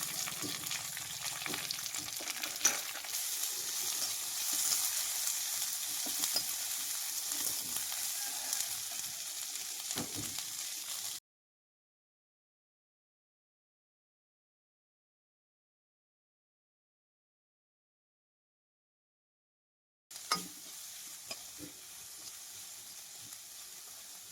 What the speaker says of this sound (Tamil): நறுக்கி வச்ச வந்து சின்ன வெங்காயத்தை வந்து போட்டு வதக்கிக்கலாம்